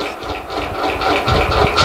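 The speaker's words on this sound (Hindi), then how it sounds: "पंखे की जो आवाज़ आपको सुनाई दे रही है नहीं दे रही मुझे बताना।" An electric fan runs nearby, picked up by a wireless microphone as a steady broadband whoosh with a low rumbling hum underneath, continuous and fairly loud throughout.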